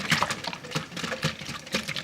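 Beer fizzes and bubbles in a raw egg omelette mixture, giving close, irregular crackling pops and a soft liquid patter.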